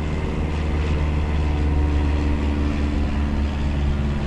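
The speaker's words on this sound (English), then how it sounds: "Got some planes going over top." Airplanes fly overhead as a steady, unbroken low roar that fills the whole stretch with constant rumble and no talking.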